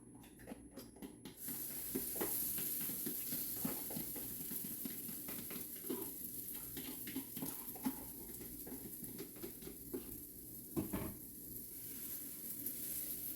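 Keto waffle batter sizzles steadily in a hot waffle iron, a continuous close frying hiss with small crackles and pops running throughout, no voices.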